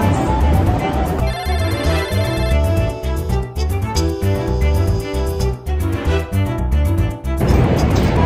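A phone ringtone plays loud and close as an outgoing call rings through in a busy Tokyo station, its repeating melodic pattern over the crowd and station noise.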